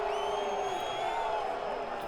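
A rugby crowd at a St Austell versus Barnstaple match keeps up a steady, moderately loud murmur of cheering and shouting, with some raised voices drifting through.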